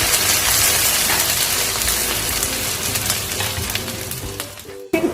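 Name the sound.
onions sizzling and being stirred in hot oil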